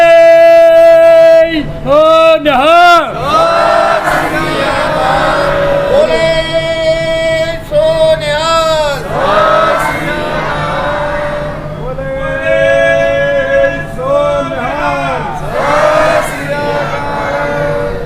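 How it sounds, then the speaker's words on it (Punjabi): A Sikh congregation roars the Bole So Nihal jaikara again and again, a loud massed chorus of voices rising in repeated swelling shouts that fill the space and carry on almost without pause. "11 ਜੰਕਾਰੇ ਐਸੇ ਛੱਡੋ ਜੋ ਆਵਾਜ਼ ਗੁਰੂ ਨਾਨਕ ਨਗਰ ਦੇ ਘਰ ਘਰ ਤੱਕ ਪਹੁੰਚੇ"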